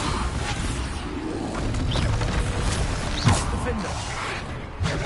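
Bombarda blast spell explosions in the video game Hogwarts Legacy, a busy combat mix of dull thumps, crashes and whooshes with a sharper impact near the middle.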